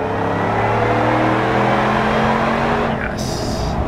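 A supercharged gasoline engine fitted with a Whipple supercharger revs with a steady, loud droning roar and a rising whine, the sound holding continuously across the whole stretch.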